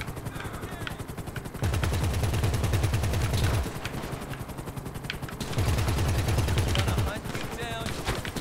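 In GTA 5 Online, rapid automatic gunfire rattles at a police station in two sustained bursts over a constant helicopter drone, with voices talking throughout.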